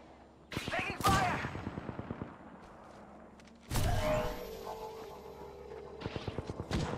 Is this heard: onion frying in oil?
no